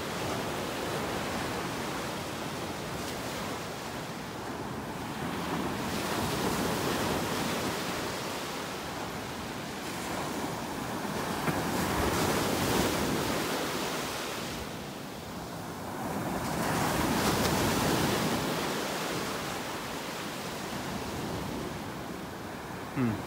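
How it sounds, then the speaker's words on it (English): Ocean surf washes onto a sandy beach in North Naples, Florida, in slow swelling surges that rise and fall every few seconds, a broad steady roar with no talking. "We'll wait till a wave comes up."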